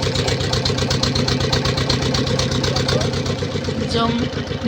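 A motorboat engine chugs steadily at low speed with a regular throbbing pulse, close and loud throughout, in the Sundarbans forest, with a brief faint sound rising near the end.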